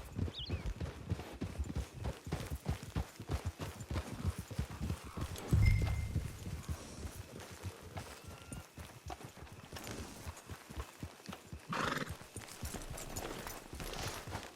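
Horse hooves clip-clop at a steady walking rhythm in Red Dead Online, close and fairly soft, approaching a camp on the range, with a brief snort or louder thump partway through and light ambient background.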